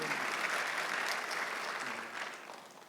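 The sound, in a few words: congregation applause in church service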